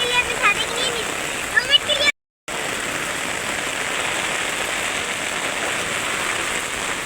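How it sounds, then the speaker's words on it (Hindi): Heavy rain falls with a steady, dense hiss of drops on surfaces, continuous and fairly close, with someone talking at the start and a brief cut partway through. "अभी इस वक्त इतनी तेज़ बारिश हो रही है"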